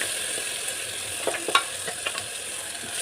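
Blended spinach and tomato purée cook in hot oil in a pan with a soft, continuous sizzle and scattered scraping stir strokes, close by and without any talking.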